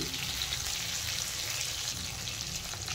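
Pointed gourd and potato fry in a pan with salt and turmeric, giving a steady, close sizzle with soft crackling and light stirring noise, no voices.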